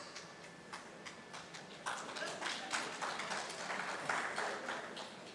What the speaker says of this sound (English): It's only 1 or 2 people clap.